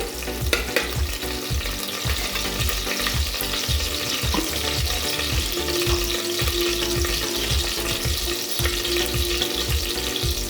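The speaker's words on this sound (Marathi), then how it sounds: "1-2 चमचे असं तूप घालायचं, असं छानपैकी परतून घ्यायचं." Ghee sizzling loudly and continuously in a pan as rice is sautéed in it, with a dense hiss and rhythmic stirring scrapes close by, and no voices.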